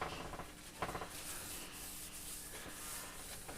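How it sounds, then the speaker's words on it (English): A towel wipes excess finish off a bass guitar kit neck, producing a soft, steady close rubbing and swishing with faint repeated strokes, no talk. "So now I'm going to get another towel here and wipe off the excess"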